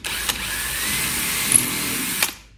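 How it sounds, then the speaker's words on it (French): A drill bores perpendicular into a hand-held wooden roller shutter box assembly, giving a steady, close, high whine that runs continuously and then cuts off at the end. "je maintiens mon assemblage à la main, hein, avec sans presse, sans rien, et je perce perpendiculaire"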